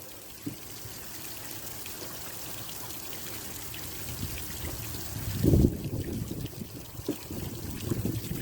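Water trickling and pouring steadily into a wildlife pond lined with a flexible liner, a close, continuous low wash with a few louder splashy surges toward the end, no voices.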